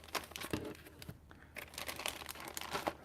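A plastic bag crinkles and rustles in irregular bursts while tools are unpacked, close up, with no voices.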